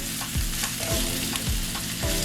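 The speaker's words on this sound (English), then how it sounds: "Just let this saute" Vegetables sauté in a pan over medium flame for a vegan veggie wrap, a continuous close sizzle broken by regular scraping stirs roughly every half second.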